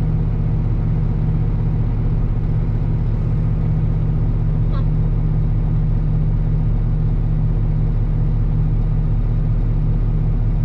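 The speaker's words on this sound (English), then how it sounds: "Rev it up because I don't want to wait for it. It's at 800 RPMs." A 2020 Kenworth T880 super dump truck engine runs at about 800 RPM, a loud, close, steady low diesel rumble that holds evenly for the whole stretch without clear surges.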